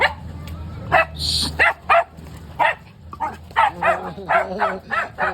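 Several dogs bark in short, sharp bursts at close range, with some yips mixed in, while people talk over them.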